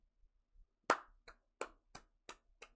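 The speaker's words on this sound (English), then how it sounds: "I hope you hear this applause." Six separate hand claps ring out in a slow, uneven rhythm, sharp and fairly close against an otherwise quiet background.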